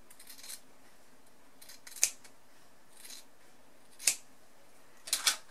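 Scissors snip through fabric along a stitched middle line while sewing a lavender sachet, three or four sharp, separate cuts at irregular intervals over a quiet background.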